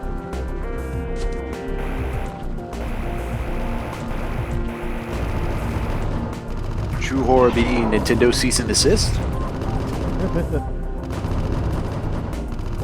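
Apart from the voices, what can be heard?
machine gun fire in video game AM2R (Metroid 2)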